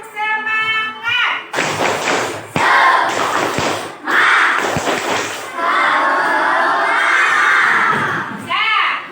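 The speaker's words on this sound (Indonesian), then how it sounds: "Mulai, tepuk semangat." A school class does a rhythmic spirit-clap cheer, sharp claps and thumps mixed with children shouting together, loud and close, with a teacher's voice leading between bursts.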